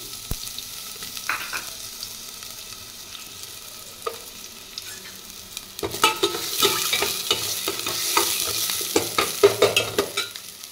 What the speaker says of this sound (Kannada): ಇದು ಹಾಕ್ತಿದ್ದಂಗೆ ಕಟ್ ಮಾಡಿರೋಂಥ ಈರುಳ್ಳಿ ಹಾಕ್ತಿದ್ದೀನಿ